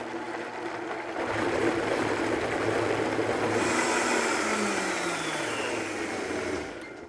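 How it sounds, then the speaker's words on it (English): A blender whirs loudly and steadily as it purees tomato basil sauce ingredients for a vegan spinach lasagna, its motor tone shifting slightly as the mixture churns, with no voices over it. "we're just going to cap our blender and just start blending all the ingredients together until it's well incorporated."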